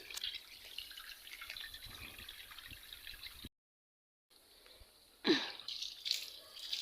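Water splashes and drips while a tied dog is washed outdoors in hot weather, faint running and spattering broken by a brief silent gap, then a louder splash and some wheezy snorts.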